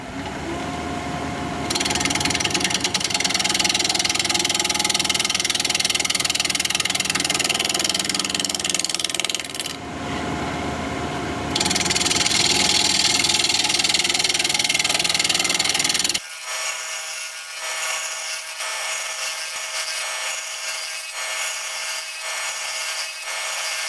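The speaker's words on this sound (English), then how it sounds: "We're gonna be turning at 1200 RPM, 5/8 inch bowl gouge" A wood lathe spins koa at 1200 RPM while a 5/8 inch bowl gouge cuts, giving a loud, continuous rough scraping roar in long stretches, broken by a brief pause, then dropping to a quieter whirring spin near the end.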